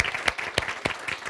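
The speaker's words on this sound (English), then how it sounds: "I think Kirby deserves a big round of applause." An audience claps in a short, dense burst at a conference to honor a retiring colleague. The applause is steady and fairly loud, with a few sharper claps standing out.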